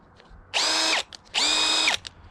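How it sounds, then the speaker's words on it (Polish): A Parkside cordless hammer drill driver runs in two loud, close bursts of high whirring, each about half a second long, with a short pause between them. "Następnie mamy yy, wiertarkę udarową. Wiertarko wkrętarkę z udarem."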